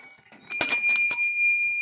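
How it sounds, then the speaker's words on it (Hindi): Temple bells hung along a railing at a Hindu shrine in Uttarakhand ring out, a couple of bright metallic strikes followed by a long, clear sustained resonance that slowly fades. "घंटी बज रही है, देखो सारी घंटियाँ लगी हैं जहाँ तक रेलिंग है।"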